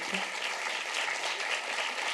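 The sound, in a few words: audience applause for a guest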